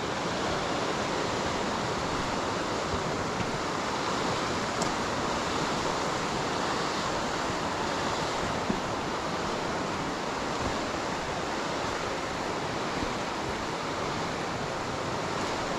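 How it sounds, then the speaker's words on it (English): River water cascading over a sloped stone dam wall makes a steady, broadband rushing roar that stays constant and fairly close for the whole stretch, with no voices. "the water would just cascade over the top of it and not push it"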